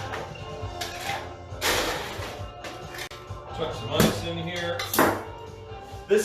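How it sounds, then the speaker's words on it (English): Ice cubes clatter and rattle into a metal cocktail shaker in a few bursts, close by, with some knocking in between. "Chuck some ice in here."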